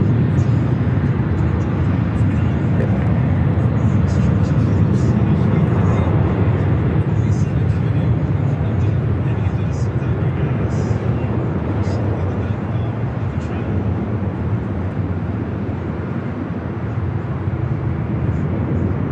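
Steady loud roar of an airliner landing on the south side at LAX, arriving from Brisbane, filling the whole stretch as a broad continuous rumble with voices talking over it.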